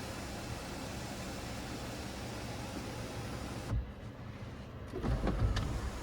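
The rear power window of a 2025 Ford F-150 Platinum runs with a steady electric whir for a few seconds, then stops with a soft clunk, followed by quieter cabin sounds and light handling noises.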